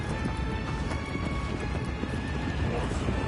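Horse hooves clip-clop in a steady galloping rhythm in the video game Shadow of the Colossus, the footfalls continuous and fairly loud over a dense game backdrop with a faint whinny.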